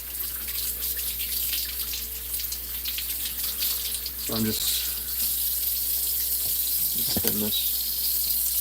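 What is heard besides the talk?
egg rinsed under hot running sink tap water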